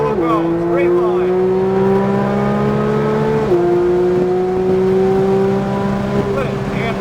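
A race car held at full power in a straight line, its engine a loud steady drone that climbs in pitch, drops briefly at a gear change, then climbs again, close by.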